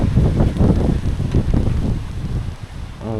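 Strong gusts of wind buffet a balcony in Malta, a loud, steady roar with rumbling pulses and flapping, continuing alone without any voices.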